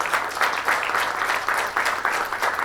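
Audience applause at a public forum on citizen access to public information, after attendees are asked to stand. Dense, steady clapping holds for the whole stretch at a moderate level.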